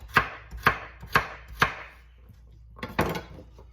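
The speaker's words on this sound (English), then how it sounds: "so I'm going to chop it in nice chunks, because I want to see this beautiful carrot when I eat it" A knife chops a carrot into chunks on a board for minestrone, four evenly spaced sharp strokes followed by a pause and a couple of softer cuts, close and clear with no talking.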